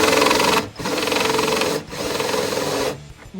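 A power drill bores holes in a Jeep Rubicon's frame while rock sliders are installed, whining loudly in three sustained bursts with short pauses between.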